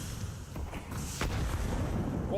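A grenade detonates in a competitive esports video game match, a sharp boom bursting from steady background game noise and crowd ambience about halfway through.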